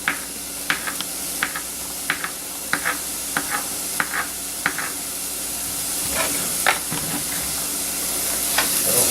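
A mushroom fries in a pan, giving a steady loud sizzle and hiss, broken by sharp scraping clicks from stirring at irregular intervals, with no talking.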